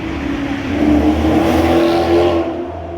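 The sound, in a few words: Maserati GT car accelerating past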